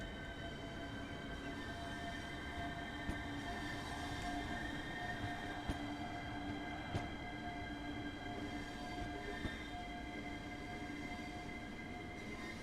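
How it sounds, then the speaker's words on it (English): The traction motor of a Southeastern High Speed train in Train Sim World 2 runs as a steady whining hum with tonal layers, over continuous rail rumble and a few faint clicks, no voices. "Now you can hear the motor"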